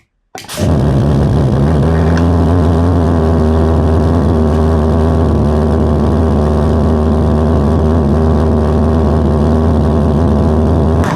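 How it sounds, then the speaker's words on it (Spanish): A homemade valveless pulsejet built from a glass jar starts up after fuel is added and runs as a steady, loud, buzzing roar with a dense rumbling drone that holds unbroken to the end. "Y ahí lo tienen, un motor funcionando"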